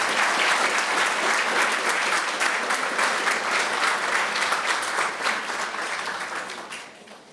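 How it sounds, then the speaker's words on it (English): Sustained audience applause for a senator at a school nutrition association conference in Vermont, a dense steady roar of clapping that fades out at the end. "How about one more round of applause for Senator Welch?"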